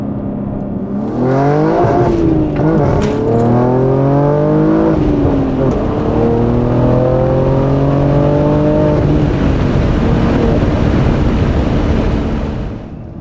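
A BMW G80 M3 with the S58 engine and aftermarket exhaust revs up and down repeatedly, loud and close, its rising and falling engine tones sweeping through several climbs before settling into a steady drone.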